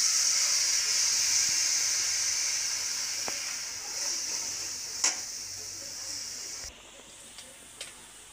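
Chillies, garlic, onion greens and potatoes fry in a pan with a steady hissing sizzle that eases slowly, broken by a few sharp clinks and stirring knocks near the end.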